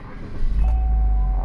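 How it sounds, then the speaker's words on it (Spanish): A Chevrolet Spark car engine cranks and catches, settling into a steady low idle hum that fills the rest of the moment at close range. "Voy a arrancar el carro."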